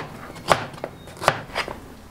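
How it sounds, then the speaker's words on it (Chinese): A knife chops peeled pumpkin into small pieces on a board, with about four sharp, spaced strikes at an uneven pace, close and clear, and no talking. "改刀切长条，然后再切小块"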